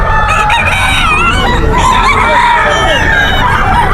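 Gamecock roosters crow and cluck loudly at a cockfight venue, several birds overlapping at close range amid a noisy crowd, with voices in the background.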